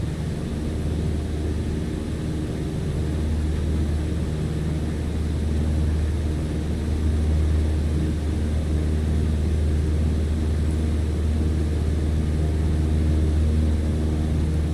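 A small propeller aircraft in Microsoft Flight Simulator 2020 with a steady, loud, low engine drone and airflow hum held for the whole stretch, no voices over it.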